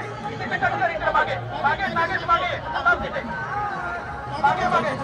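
A dense crowd at the Raigad fort coronation ceremony of 2024 chatters all around, with many overlapping voices and occasional chuckles forming a close, steady babble.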